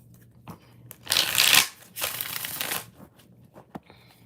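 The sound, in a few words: shuffling tarot cards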